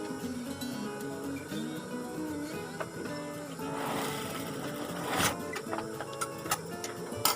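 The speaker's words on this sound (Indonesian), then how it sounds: "Lalu kita jalan jahit kembali." A sewing machine runs in short rhythmic bursts while stitching a shirt collar, its quiet ticking needle strokes close up, with small handling clicks and rustles around it.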